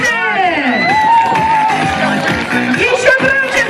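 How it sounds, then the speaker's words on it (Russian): A crowd at a spring children's camp bonfire cheers and whoops loudly, with many overlapping shouting voices close by. "Ваши аплодисменты!"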